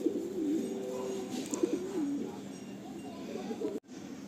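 Malwai pigeons held for sale give soft, wavering coos in the foreground over a steady background hiss, with an abrupt cut near the end.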